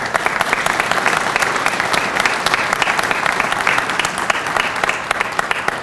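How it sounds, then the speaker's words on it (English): Steady, dense applause from a large crowd at the grand opening of the Scott Bieler Clinical Sciences Center, continuous and loud for the whole stretch with no voices standing out. "Let's give them a round of applause."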